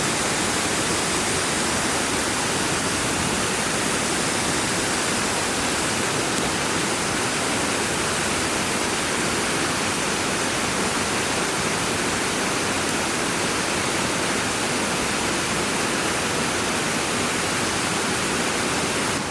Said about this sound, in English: Let you all enjoy that nice waterfall right there.